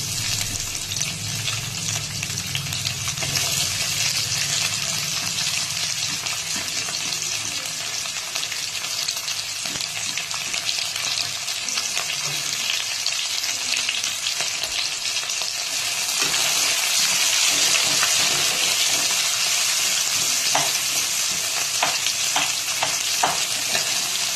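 Onions frying in a hot pan for a cabbage chicken dish, giving a steady, close, loud sizzle with crackling spatter and occasional stirring throughout.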